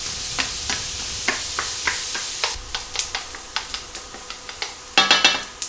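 Onions sautéing in a pan hiss with a light sizzle while a utensil scrapes and taps them in a steady rhythm of about a dozen close strokes, briefly louder near the end.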